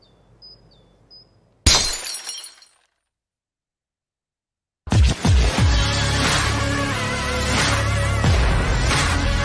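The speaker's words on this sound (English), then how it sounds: "You're telling me that bottle is cut in half?" Glass shatters in one sharp crash, loud and close after a quiet start, followed by silence and then a long stretch of dense, loud noise.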